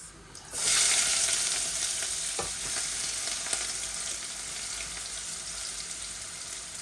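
Onions hit a hot pan of leafy greens tempered with cumin, bursting into a loud sizzle after a brief quiet moment. The frying then settles into a steady, crackling hiss, with a few faint utensil clinks and no talking.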